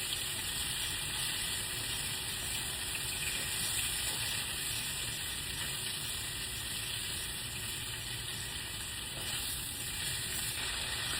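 Chicken pieces fry in a hot pan with a steady, dense sizzle and crackle, with occasional stirring and shifting sounds as they are flipped; no voices.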